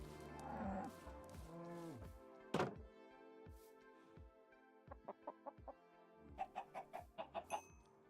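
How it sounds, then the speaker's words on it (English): Chickens and a baby chick in Minecraft cluck in short, soft bursts, a rapid run of small clucks near the end, over a steady game background with a single thunk partway through. "Oh, the little chick is adorable."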